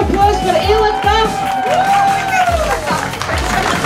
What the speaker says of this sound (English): Right, everybody, a big round of applause for Ella Taff.